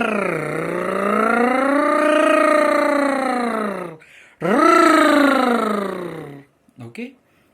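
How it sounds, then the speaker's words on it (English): A voice performs a rolled-tongue trill as a vocal exercise, sliding from a high pitch down low and back up. Loud and close, it comes as two long sustained trills separated by a short breath, then a couple of brief vocal bursts. "first you need to go to high pitch, then reduce it to minimum level, then again come to middle, and in this way you need to fluctuate it"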